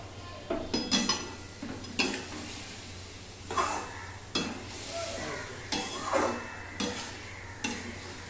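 Vegetables sizzle softly in mustard paste in a pan while a utensil scrapes and taps the metal in irregular strokes, with a faint, steady frying hiss underneath.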